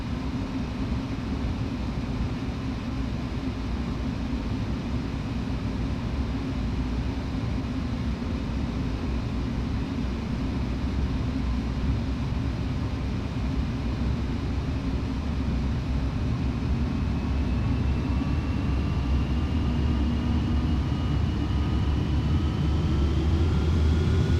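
Airliner jet engines in Flight Simulator X spool up into a steady, loud roar during the takeoff roll, a continuous broadband rush with a slowly rising whine, heard alone with no talking.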